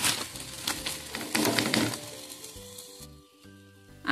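A puran poli flatbread is laid on a hot tawa griddle and sizzles, a crackling burst that fades to a quieter hiss alongside light clinks and scraping nearby.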